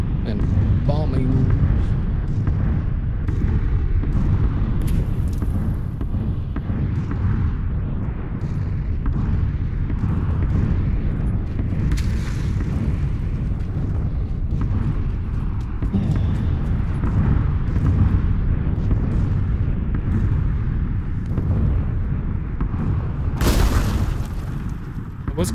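Bombing explosions in the battle royale game PUBG rumble as a dense, continuous low boom that stays loud for the whole stretch, while players talk over it throughout.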